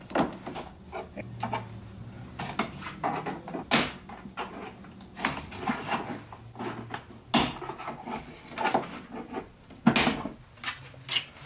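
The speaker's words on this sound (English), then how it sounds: "What I'm going to do next is remove the trim panel here" A plastic trim panel is pried off a Jeep tailgate, producing a series of sharp close clicks and pops as the clips release, separated by quieter handling and rustling.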